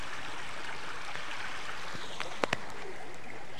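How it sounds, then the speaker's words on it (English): A river in Galloway National Park, Scotland, flows in a steady, moderately loud wash of rushing water, with a couple of faint clicks near the end and no speech. "So it's time to cross this river."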